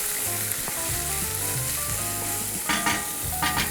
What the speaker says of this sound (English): I'm going to add my onions to the oil mixture and a little bit of garlic.